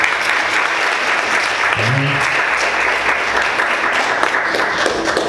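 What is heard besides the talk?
congregation applause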